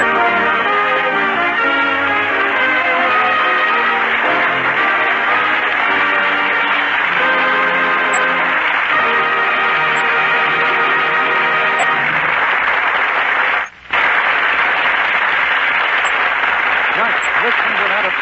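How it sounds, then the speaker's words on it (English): A radio theater studio audience applauds loudly and continuously, a dense wash of clapping that stays strong for a long stretch with one brief break. "Listen to that applause from the audience here in the Gulf Screen Guild Theater."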